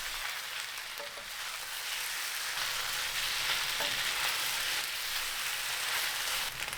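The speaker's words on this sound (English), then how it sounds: "let them grill in contact with the pan for 3 minutes, flipping them from time to time" Homemade rice noodles in soy sauce grill and sizzle steadily against a hot pan, a dense continuous crackle with a couple of faint scraping clicks as they are turned.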